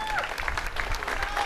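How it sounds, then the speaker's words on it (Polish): Crowd applause at a sports team presentation during a Rose Festival parade event, a short steady burst of clapping with a faint voice over it. "Wielkie brawa."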